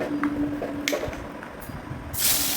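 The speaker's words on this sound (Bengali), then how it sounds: "সর্ষের তেল দিয়ে আমি সবগুলো চিংড়ি মাছগুলো ভেজে নেব" Small prawns fry in mustard oil in a hot pan, giving soft sizzling and spitting pops that end in a louder hiss, with faint background clatter.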